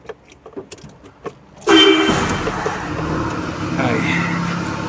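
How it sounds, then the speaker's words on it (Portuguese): A few soft clicks come first, then a car engine cranks and starts abruptly before settling into a steady idle around 1000 RPM. The car has a suspected accessory-belt noise and an injection warning light on, and the engine hum stays close and continuous. "Olha lá, o carro em 1000 RPM, tá? Funcionando."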